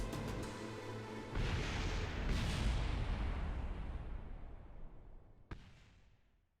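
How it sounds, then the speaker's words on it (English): A spacecraft in Kerbal Space Program overheats and explodes: a loud rumbling blast builds, roars and slowly fades, followed by a sharp crack near the end. "I overheated and exploded."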